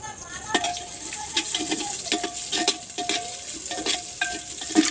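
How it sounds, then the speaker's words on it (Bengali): Whole spices and dried red chillies sizzle and crackle in hot oil in a pot for mutton curry, with stirring scrapes and clinks sounding in an uneven rhythm. "দেখুন হাঁড়ির ভেতরে সব কিছু ভাজা হয়ে গেছে"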